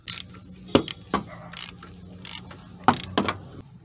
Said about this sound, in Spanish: Y este es el socado de tornillos para el alternador aquí